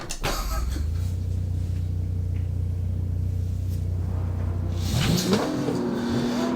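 Race car engine in the Assetto Corsa racing game holding a loud steady high-rev drone, then dropping and rising again as the revs shift near the end, alone with no talk.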